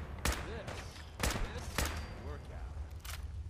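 Headshot gunfire in Fallout 4 rings out as four loud, separate shots spaced irregularly over a few seconds, each with a short ringing tail, while someone talks between them.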